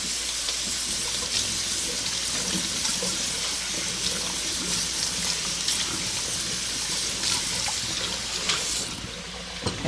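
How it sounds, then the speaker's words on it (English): White jasmine rice rinsed under a running tap, a steady continuous rush of water splashing into a bowl, close and fairly loud with no talking. "I am going to rinse 2 cups of white rice."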